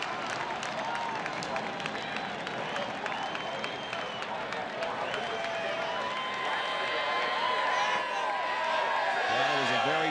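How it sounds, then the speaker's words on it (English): Crowd at Richmond Raceway cheering and applauding a caution finish at the 1998 Pontiac Excitement 400 NASCAR race, steady dense clapping and cheers throughout, with a commentator talking over the noise. "Listen to the crowd."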